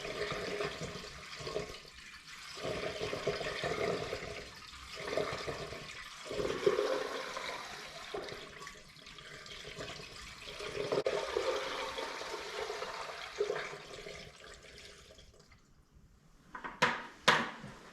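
Liquid is poured into an Allis Chalmers B tractor, giving a steady gurgling, splashing flow that rises and dips for several seconds before a few sharp clinks near the end.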